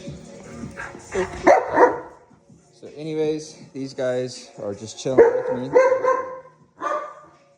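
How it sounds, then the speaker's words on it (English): A dog barks a few times, close by, mixed in with a person talking casually over it. "That's my dog. He just likes to bark."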